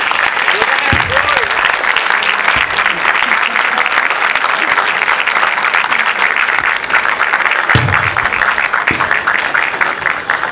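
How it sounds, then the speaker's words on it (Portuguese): Loud, sustained applause from an audience at a round-table discussion on Black women's health, dense clapping throughout with occasional voices briefly rising over it. "uma salva de palmas para todos"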